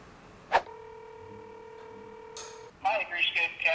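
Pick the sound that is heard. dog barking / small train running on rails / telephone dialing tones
telephone dialing tones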